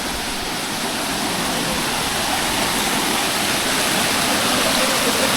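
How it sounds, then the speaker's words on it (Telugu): Katiki waterfalls in Araku roar as a dense, unbroken rush of falling water, loud and close throughout with no pauses. "నిజంగా కట్కి వాటర్ ఫాల్స్ మాత్రం మామూలుగా లేదు"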